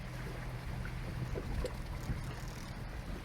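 Small boat running at full throttle on an Epropulsion Spirit 1.0 Plus electric outboard at about 5 to 6 mph, a steady low hum and water rush mixed with wind noise, with no voices.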